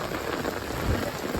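Heavy rain pours down during a village flood, a dense, loud, continuous roar of drops hitting surfaces, with a deeper rumble swelling near the end.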